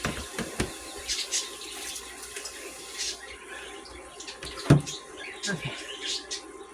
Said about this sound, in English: we'll go ahead and rinse off the cutting board